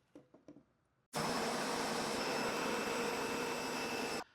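An Adam's 3.0 pressure washer sprays through a 3.0 nozzle, bursting on after a brief click and holding a loud, steady, close hiss for about three seconds before cutting off.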